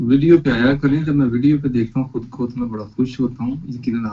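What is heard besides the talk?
None of the usual background noises is heard.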